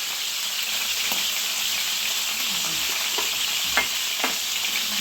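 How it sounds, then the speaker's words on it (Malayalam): Prawns with coconut pieces frying in a pan make a strong, continuous sizzle up close, with a few light stirring clicks and no talking. "നമ്മളിത് സംഭവം ഇവിടെ ഫ്രൈ ചെയ്യാൻ ഇട്ടിട്ടുണ്ട്"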